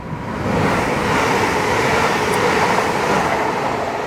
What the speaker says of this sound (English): There's a 333 which is about to pass through.